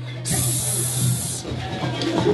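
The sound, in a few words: voice imitating a spray hiss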